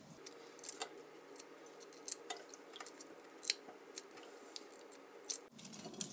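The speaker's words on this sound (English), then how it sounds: "So just crack your eggs all around" The cracked shell of a boiled egg being peeled by hand, heard as quiet, close crackles, crunches and snaps at an irregular pace over a soft hiss, with no speech.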